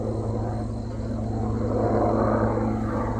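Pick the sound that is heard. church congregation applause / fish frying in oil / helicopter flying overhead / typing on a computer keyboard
helicopter flying overhead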